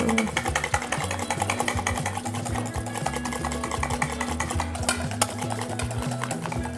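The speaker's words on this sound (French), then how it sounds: "Un fin trait à la fois afin que la mayonnaise se monte bien." Mayonnaise whisked by hand in a bowl set on a towel while sunflower oil is added in a thin stream: steady, fast rhythmic whisk clicks and scraping against the bowl, close and continuous throughout.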